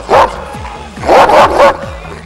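A dog barks loudly and close by, one sharp bark followed by two more in quick succession, with faint whimpering between.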